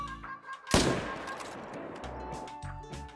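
A single rifle shot fired at a moose at long range in the hunting game theHunter: Call of the Wild, a sharp loud crack followed by a rolling echo that fades over a couple of seconds.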